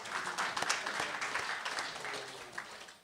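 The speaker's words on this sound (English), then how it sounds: "Please, can you give them a round of applause" Soft, fairly quiet applause from an audience at a national journalism awards event, congratulating award winners, a short patter of clapping heard from some distance.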